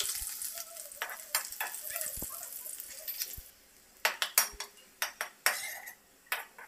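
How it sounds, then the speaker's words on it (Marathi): Half a cup of garlic frying in a pan for a spicy bhel snack, with a soft steady sizzle under repeated sharp clinks and scrapes of a utensil against the pan, the scraping growing more distinct toward the end. "लसूण पटकन फ्राय होतो"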